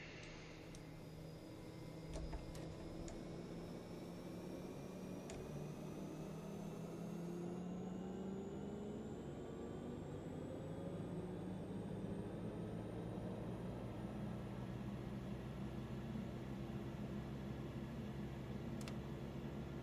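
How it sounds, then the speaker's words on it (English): PT6 turboprop engine of the Black Square Caravan in MSFS 2024, flying a Papua New Guinea highland cargo run: a continuous steady drone with a whining tone that slowly climbs, heard alone with no talking. "Best PT6 sound in the sim."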